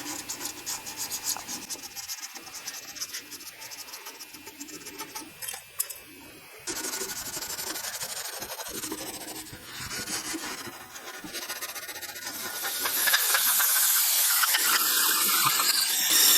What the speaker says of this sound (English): I'm just cleaning the old sealant off of the main crankshaft bearing saddle.